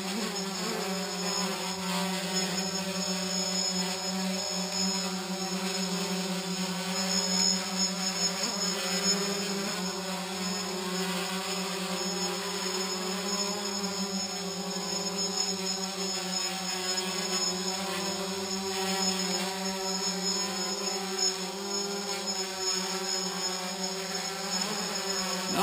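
A drone hovers in GPS failsafe mode without landing, giving a continuous buzzing motor whine with steady harmonic tones that stays fairly close and constant throughout, with small shifts in pitch.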